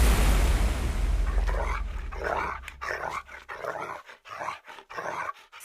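A dog growls and then lets out a run of rough, close barks in uneven bursts, following a heavy low rumble at the start.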